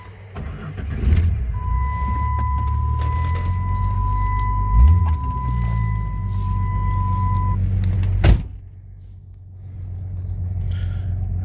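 A 1998 Jeep Grand Cherokee ZJ with a straight-six engine and 151,000 miles cranks and starts, settling into a loud steady idle with a rev blip midway, then cuts off briefly before rumbling again.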